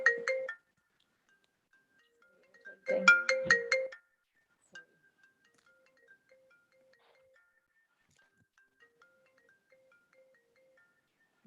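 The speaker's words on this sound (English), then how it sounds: "My phone's ringing." A mobile phone ringtone plays during an online nutrition talk: two short bursts of bright electronic melody, the second longer, then faint soft tones fading into near silence.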